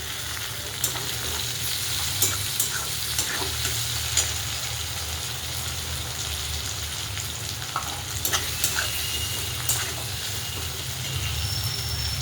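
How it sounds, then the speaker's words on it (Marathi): Garlic, green chili and tomatoes fry in a pan of hot oil, a steady close sizzle running throughout with occasional stirring clatters and scrapes, no talking. "लसूण मिरची छान अशी खमंग भाजलेली आहे. आता लगेच टोमॅटो टाकून घेऊया."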